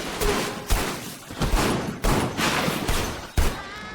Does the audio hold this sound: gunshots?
yes